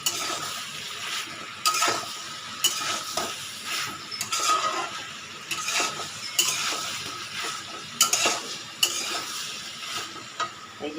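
Soybean chunks fry in a pan while a spoon stirs and scrapes them in repeated uneven strokes, with occasional clinks against the metal over a constant sizzle.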